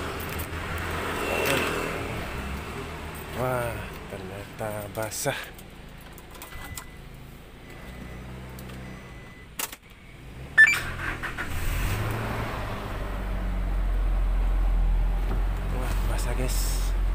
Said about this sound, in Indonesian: Rencana mau manasin mobil kami, mobil pemadam.